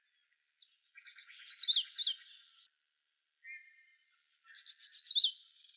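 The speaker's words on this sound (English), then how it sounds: "This female yellow warbler has a beak full of food, so she must be feeding a brood of chicks." A female yellow warbler on Vancouver Island near Port Alberni, carrying food for her chicks, gives two clear, bright bursts of rapid chirping notes separated by a short pause, close and loud in otherwise quiet surroundings.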